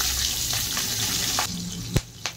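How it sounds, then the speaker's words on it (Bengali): Whole cumin seeds with green chillies frying in a little hot oil, a close, dense sizzle that drops off partway through, followed by a couple of sharp utensil taps. "জিরে দেখেন ভালো করে ভাজা হয়ে গেছে"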